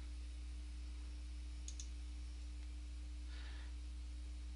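A computer mouse clicks while a document is being edited: a quick, quiet double click rises briefly above a steady electrical hum and hiss, followed later by a faint soft rustle.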